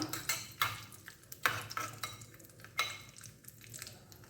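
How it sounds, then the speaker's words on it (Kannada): Cashews fry in about two tablespoons of hot ghee in a pan for carrot rice kheer, with a soft sizzle under repeated scraping stirs of a spoon, quiet and close. "ತುಪ್ಪ ಬಿಸಿ ಆದಮೇಲೆ ಗೋಡಂಬಿ ಹಾಕ್ಕೊಳ್ಳೋಣ. ಸ್ವಲ್ಪ ಫ್ರೈ ಮಾಡ್ಕೊಬೇಕು."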